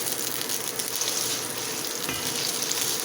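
Ginger fries in a small amount of cooking oil, sizzling and crackling steadily and fairly close throughout, with a faint stirring scrape.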